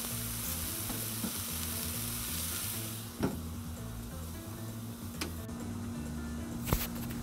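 Chicken wings sizzle steadily on a Blackstone 22-inch griddle, a dense, even crackling hiss with occasional sharp pops and a clatter near the end, close and continuous with no talking.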